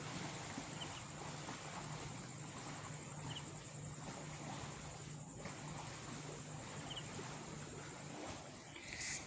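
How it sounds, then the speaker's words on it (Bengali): Waves on the Ganges river, heard from beside a window, make a steady, fairly faint broadband wash that runs unbroken throughout with no voices. "কি সুন্দর গঙ্গার ঢেউটা দিচ্ছে"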